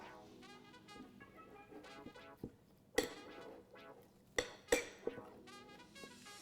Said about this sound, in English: And then we're going to mix this all up so it's incorporated.